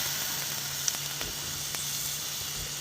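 Tomatoes go into onions and carrots frying in a hot pan for homemade veg noodles, a steady, close hiss of sizzling oil with a few faint clicks and stirring taps, no voices.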